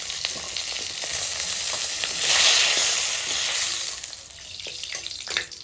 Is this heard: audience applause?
no